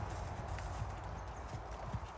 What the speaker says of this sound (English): my niece let me ride her beautiful Arabian gelding